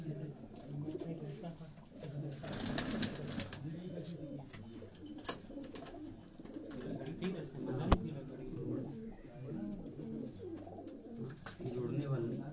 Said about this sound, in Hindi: ब्रीडर कबूतर हैं इनके ये सारे।